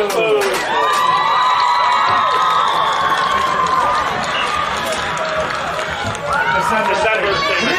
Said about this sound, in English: Put your hands together for Ms. Witherspoon.